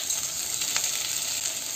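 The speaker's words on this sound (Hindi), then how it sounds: "तो इसमें अब मैं इसी टाइम में रख दूंगी ये कटा हुआ प्याज" Ivy gourd frying in oil with chopped onion just added gives a steady, loud hiss of sizzling with no pauses and no voices.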